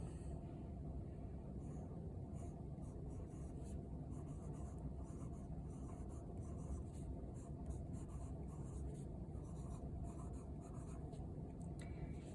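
A pen or pencil writes steadily by hand on paper, a soft continuous scratching that carries on for the whole stretch against a constant low background rumble, with no voices.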